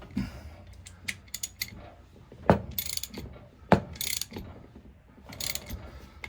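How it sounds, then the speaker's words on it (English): Ratchet and hand tools working kingpin bolts on a Case IH 275 or Mitsubishi MT300D compact tractor, giving quick bursts of clicking pawl ratchet strokes with sharp metallic clanks between pauses, close and fairly loud. "Plus with the ratchet, I have a little bit more leverage getting these tightened down."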